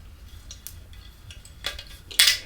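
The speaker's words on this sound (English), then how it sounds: "Metal screw top." Metal screw cap being twisted off a bottle of Johnnie Walker Blenders' Batch Triple Grain American Oak whisky, giving a few faint close clicks and a sharper metallic crack near the end, heard alone.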